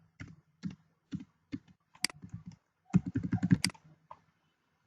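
Typing on a computer keyboard: sparse, separate key taps at first, then a faster cluster of clicks, close and fairly quiet, with no talking.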